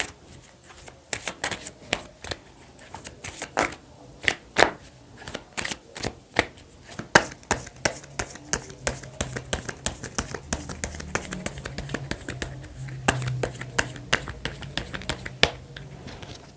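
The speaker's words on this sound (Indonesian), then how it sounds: "Saya shuffle dulu." Tarot cards shuffled by hand in a steady run of crisp riffling clicks and slaps, close and fairly quiet, continuing alone for the whole stretch with no talk.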